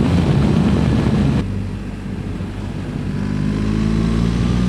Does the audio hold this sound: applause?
no